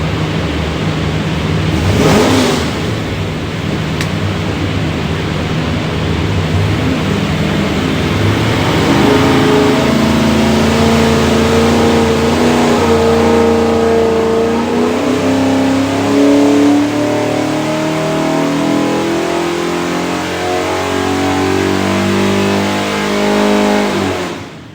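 A Chevy 383 stroker V8 built for a 1978 Corvette revs hard on a dyno, climbing in pitch through a long, loud, sustained pull with a rising engine roar that holds close and steady almost to the end.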